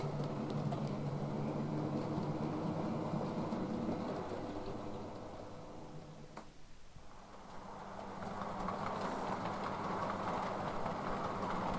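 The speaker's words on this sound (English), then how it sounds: "The first express of the day, the Down Morning Talisman. This originates here from one of the kickback sidings" The Down Morning Talisman express train starts from a kickback siding, a continuous low rumble and clatter that dips briefly in the middle before swelling again, with no voices.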